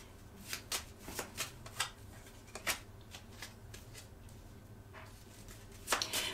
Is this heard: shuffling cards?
yes